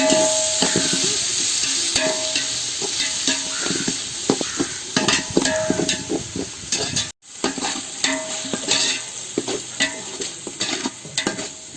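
Tomatoes being stirred and mashed in a pan for chicken dum biryani: loud, close, busy scraping and clacking of a spoon against the pan over a constant sizzle, with a brief break midway.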